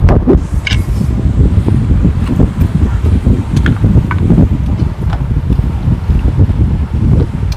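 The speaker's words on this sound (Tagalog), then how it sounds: "Ang lakas ng ano namin, hangin." Steady, loud wind gusting and buffeting the microphone throughout, with faint rustling and a few light clicks over a constant low rumble.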